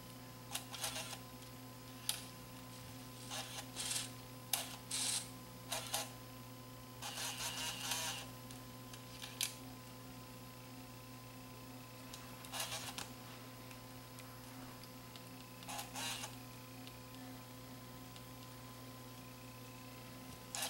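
A Sony TCD-D3 DAT Walkman tape mechanism with an unloading fault opens and then sticks, giving sparse small clicks and mechanical ticks over a steady low electrical hum, close and quiet, with no voices.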